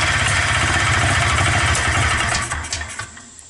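A Polaris Xplorer 250 ATV fitted with a Yamaha Blaster carburetor runs with a loud, close, buzzing engine rattle that drops away over the last second.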